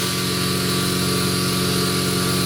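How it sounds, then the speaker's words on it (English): Air compressor running in a garage during rear wheel bearing work on a 2001 VW Jetta 1.9 diesel, a loud steady mechanical drone with constant motor hum, continuous and close throughout. "that stupid air compressor is running"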